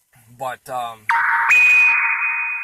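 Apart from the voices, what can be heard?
phone notification beeping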